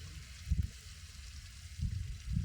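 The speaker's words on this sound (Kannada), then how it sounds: "ಇವು ಮಾತ್ರ ಒಂದು ಸ್ವಲ್ಪ ಫ್ರೈ ಮಾಡ್ಕೊಳಕತ್ತೀನಿ ರೀ" Lake fish pieces sizzling in oil for a fish curry, soft and close, with a few louder bubbling spurts of frying over a quiet background.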